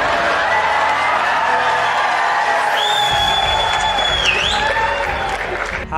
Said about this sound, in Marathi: ही स्तुती टाळ्या वाजून करण्यात आली